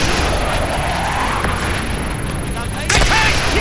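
Bombing-run explosions in the Call of Duty Black Ops campaign mission Nova 6: a loud, dense roar of blasts and gunfire that stays constant throughout, with a voice calling out over the din.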